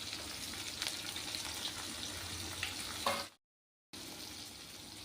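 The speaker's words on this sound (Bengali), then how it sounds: "এখন পেঁয়াজ আর রসুন তেলে ভেজে নেব, একটু লাল লাল করে ভেজে নেব।" Onion and garlic fry in hot oil in a pan for a mutton kosha, a steady close sizzle with small stirring scrapes that cuts out briefly near the end and then resumes.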